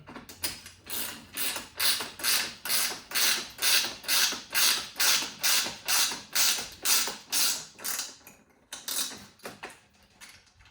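A ratchet tightens a bolt on a light bracket in a steady series of about fifteen evenly spaced, close, rasping strokes, each a rising creaky click, then trails off into a few irregular clicks.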